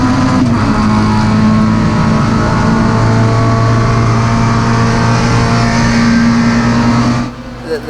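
Touring race cars roar off the start at the Goodwood Revival, engines revving hard and loud as the pack accelerates away, sustained droning engine tones rising together before cutting off abruptly near the end.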